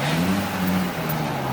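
A car pulls away from a JDM car meet in Okinawa, Japan, its engine humming and revving close by in a short continuous burst.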